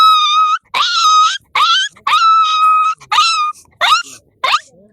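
A voice imitates a puppy's yelping with a string of high, whining yips and wails in quick succession, loud and close, without other sounds.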